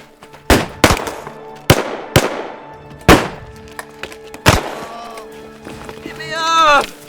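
Gunshots ring out in a western movie shootout: about seven sharp reports in uneven succession, some close together, loud and echoing, with a shout rising near the end.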